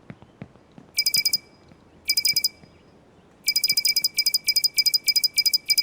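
A laser alarm from an Unreal Engine Niagara effect gives off rapid bursts of shrill electronic beeps. Short clusters come with pauses between them, then the bursts repeat more tightly, loud and clear over a faint background hiss.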